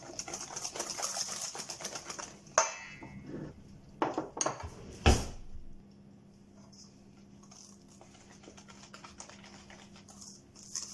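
Chocolate chip muffin batter being mixed in a bowl with the rest of the flour gives brisk clinking and scraping of a utensil against the bowl, then a few louder knocks before the sound settles into a quiet background.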